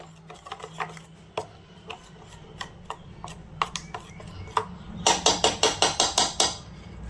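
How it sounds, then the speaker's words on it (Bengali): Sour curd (yogurt) being beaten in a bowl for a mustard-poppy-seed steamed egg dish, with a steady series of sharp utensil taps against the bowl that turn faster and louder toward the end. "টক দই দিয়ে ভালো করে ফেটিয়ে নিতে হবে।"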